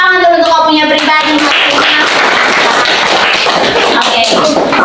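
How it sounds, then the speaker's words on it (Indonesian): Schoolchildren in a classroom clap for themselves at the end of a lesson, loud and close. Voices are heard at the start, then a burst of ragged, busy clapping takes over. "Tepuk tangan dulu untuk kamu punya pribadi."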